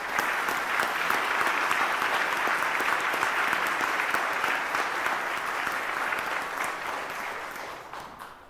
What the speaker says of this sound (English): If you all would give these folks a round of applause.